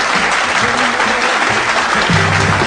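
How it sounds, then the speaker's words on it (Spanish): Loud, sustained audience applause welcoming a guest on an interview show, continuous clapping throughout with a few faint voices underneath. "Aplauso bien grande para Guillermo Vázquez Franco."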